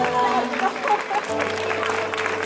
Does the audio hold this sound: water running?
no